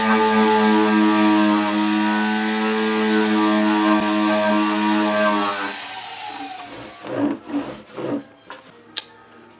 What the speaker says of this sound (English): I'll use this little wheel to polish just the frets